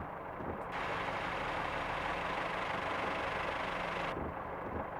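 A train in the Train Sim Classic video game on the South Wales Coastal route gives a steady, loud rattle and engine rumble, with a hiss rising briefly in the middle and no talking.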